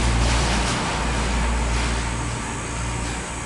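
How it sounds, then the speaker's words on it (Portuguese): A truck rumbles past outdoors, a steady loud low engine drone with road noise filling the whole stretch, easing slightly toward the end. "Passar um caminhão agora com barulho de novo."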